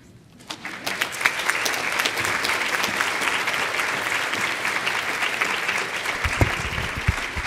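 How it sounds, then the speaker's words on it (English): A conference audience breaks into sustained applause after a research presentation, the clapping swelling quickly and holding at a dense, steady level, with a few low thumps and murmurs beneath it. "please, just one more round of applause for the whole group"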